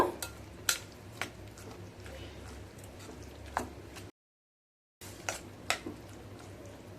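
A spoon stirs semolina batter mixed with tomato, carrot and coriander in a bowl. Light scraping runs under sharp, irregular clinks of the spoon against the dish, with a brief silent break midway.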